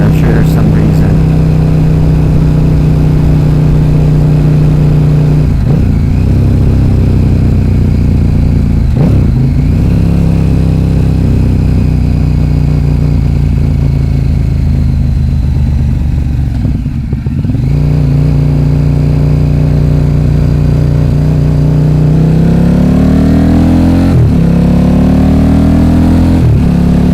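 A 2011 KTM RC8R sport bike with its LC8 engine and an Akrapovic exhaust runs steadily and loud for the whole stretch, with a strong low drone, brief dips and swells in pitch, and talk over the engine.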